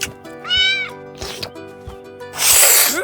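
Cartoon cat in The Simpsons meowing, several distinct drawn-out meows spaced apart and ending in a harsh, screechy yowl, loud and close over quiet background music.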